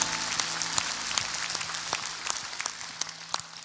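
Steady applause from a church congregation, a dense patter of clapping that holds for several seconds and fades slightly toward the end.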